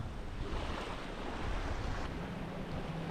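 Sailboat Avocet running fast at nearly 8 knots under spinnaker and main set wing on wing, a constant broad rush of water and wind noise on the microphone, loud and close, with no talking.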